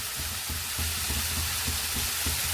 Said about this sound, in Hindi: और सभी चीजों को अच्छे से हम मिक्स कर लेंगे चलाते हुए।